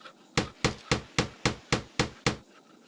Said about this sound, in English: Use the hammer to attach the wheels and the horse's head.